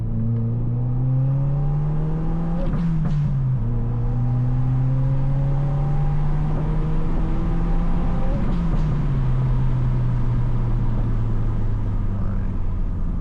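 A Subaru WRX with a stock exhaust, revving up through a gear and then dropping with each downshift. The engine note climbs, falls back and climbs again, loud and close from inside the moving car.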